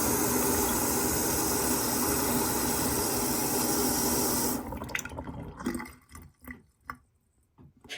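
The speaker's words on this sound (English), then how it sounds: "turn the water on so you can see the filter working in process" Tap water runs steadily through a 360° rotating sink faucet filter, a loud constant hiss that cuts off abruptly, leaving scattered drips and faint splashes.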